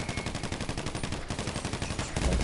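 Rapid bursts of automatic gunfire from a GTA 5 Online shootout, a dense steady rattle of close shots filling the whole stretch, with a heavier thump near the end.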